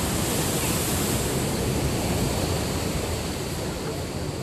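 Broad, steady roar of beach surf and waves with some wind rush on the microphone, loud and continuous throughout, without clear individual wave breaks.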